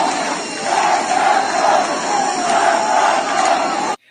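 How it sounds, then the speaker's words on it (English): A large crowd chants together at a funeral in Iran, a loud, dense roar of many voices with a steady rhythmic swell, ending abruptly. "So people are chanting at Kian's funeral"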